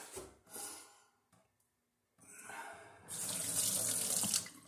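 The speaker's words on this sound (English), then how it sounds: "I'm going to rinse it off with Star San again before I put it back in its protective sleeve" Running tap water splashes into a sink while a glass hydrometer is rinsed with Star San after testing homemade strawberry wine, the flow starting and stopping before a loud steady gush, close by with no talking.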